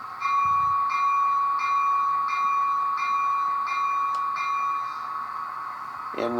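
Bell on a Rapido F40PH model locomotive sound decoder rings in a steady, even rhythm of repeated clangs for several seconds, loud and close, before fading and giving way to a rising mechanical whine, with no voices.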